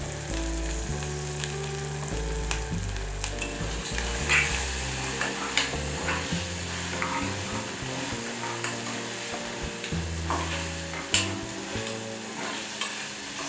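Green peas with onion and ginger-garlic paste fry in hot oil with a continuous loud sizzle, broken by repeated scraping and clinking as a spoon stirs the pan, plus one sharper knock near the end. No one speaks.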